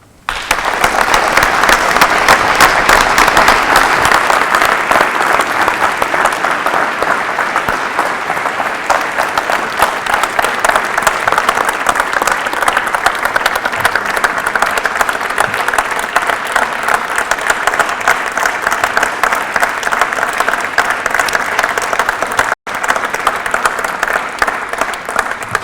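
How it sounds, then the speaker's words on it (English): Dense, loud applause from a large audience fills a hall at the opening session of Play the Game 2015 in Aarhus Town Hall, sustained and even throughout with barely a break. "I hope that this round of applause shows that it was highly appreciated that you decided to come here"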